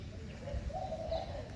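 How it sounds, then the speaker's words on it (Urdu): Two doves perched on top of a ceiling fan give a soft, low cooing call, one sustained phrase in the second half, quiet and a little distant over a steady ambient hum. "ہاں جی فاختہ بھی بول رہی ہے ہمارے"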